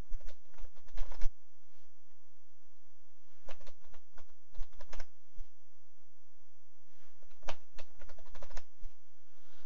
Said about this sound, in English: So then you can type in the answers to those questions.